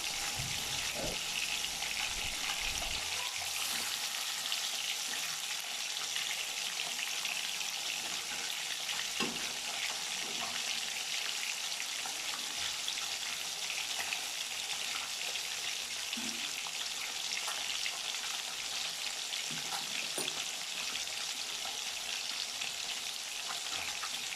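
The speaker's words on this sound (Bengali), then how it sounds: "তেল আমাদের গরম হয়ে গেছে, এবার আমি মাছগুলো দিয়ে দিচ্ছি" Rui fish frying in hot white oil in a pan, a continuous soft hiss and crackle of sizzling oil with occasional faint clicks, no voices.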